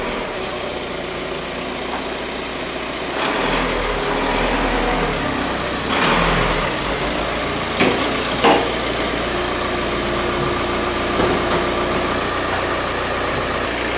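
VW Passat that had stood for a long time, engine running as it is driven in, a loud continuous engine drone with a deeper rumble rising midway and a few short knocks, no talking.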